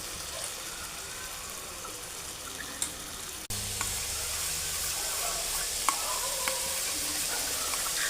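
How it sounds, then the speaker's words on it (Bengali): Boiled soybean chunks squeezed and fried in spicy masala for soybean biryani: a constant loud sizzle that jumps in intensity about midway as the chunks go in, with occasional stirring clicks. "এবার সয়াবিনগুলো একটু চিপে মশলার মধ্যে দিয়ে আরও কিছুক্ষণ মশলার সাথে কষাবো"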